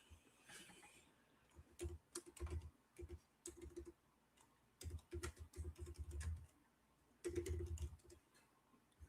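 Bursts of keystrokes on a computer keyboard, close and crisp, coming in short irregular clusters separated by brief pauses, with no talking.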